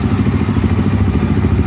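Voge Rally 300 single-cylinder 300cc motorcycle with fuel injection idling close by, a loud, steady, even low thudding pulse with no talk.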